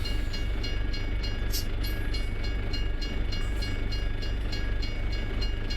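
A train rolls past in Farming Simulator 22 on the Silverrun Forest map, a steady loud rumble with rhythmic clickety-clack of wheels over rail joints running throughout, no talking.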